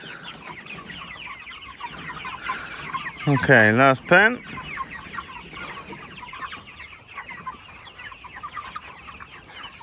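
Hundreds of chickens in a roller pen keep up a dense, continuous clucking chorus, with a burst of louder close squawking partway through and someone speaking briefly over the flock.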